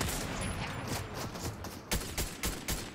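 Bursts of gunfire in the video game Fortnite, several sharp reports spaced in the second half over a steady background rumble, moderately loud with no talk.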